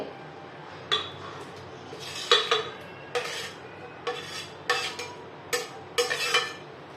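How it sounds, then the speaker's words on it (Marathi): Metal spoon scraping and clinking against a large pot as tomatoes are stirred into melted butter for a big batch of pav bhaji, with about eight sharp, close knocks spread across a quiet kitchen background. "त्याच्यामध्ये आपण टोमॅटो घालतोय।"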